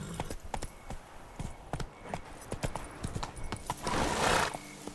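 Horse hooves clip-clopping in The Witcher 3, a rapid run of sharp hoof strikes with a brief whinny-like burst near the end, close and moderately loud, no speech over it.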